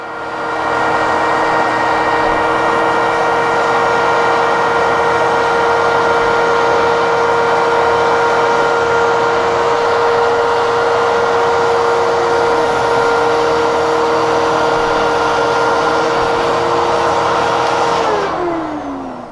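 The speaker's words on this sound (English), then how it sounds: "You want to try to do as much vacuuming as you possibly can." A vacuum cleaner fitted with a crevice tool runs loud and steady along the gap between the baseboard and the floor, its whine holding constant for nearly twenty seconds before cutting off.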